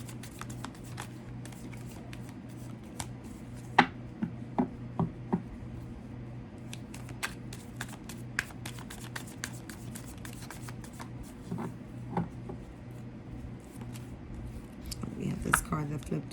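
Tarot cards are shuffled and handled close by in a quiet room, soft continuous riffling punctuated by sharp flicks and taps, one card flipping over, with a faint low hum underneath.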